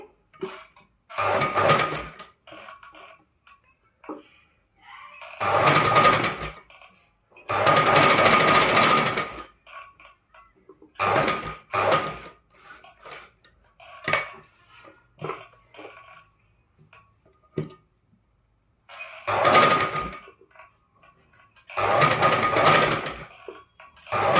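Sewing machine stitching thread piping on a square neckline, several separate bursts of rapid mechanical whirring lasting one to two seconds each, close and clear, with quiet pauses between.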